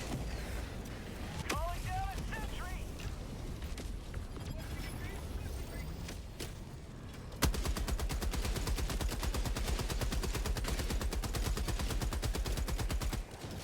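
Video game gunfire in a shooter match, scattered single shots followed by a long, rapid, steady automatic burst at moderate volume, with no speech over it.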